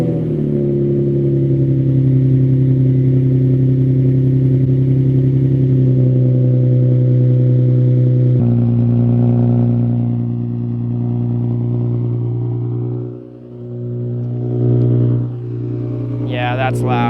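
Nissan 350Z engine with a new exhaust (headers and test pipes) idling and revving loudly in a steady, deep drone, heard from inside the car, with brief dips near the end and a person speaking over it.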